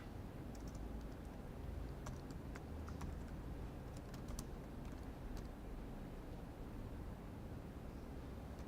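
Sparse, light keyboard taps are typed into a password field during an HTML web-page demonstration. The faint clicks are scattered over a steady background hiss.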